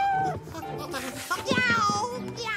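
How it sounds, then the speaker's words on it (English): Exaggerated cartoonish meowing with wavering, drawn-out pitch, close and loud, mixed with animated voices from the Rabbids Invasion cartoon. "I think it's a cat."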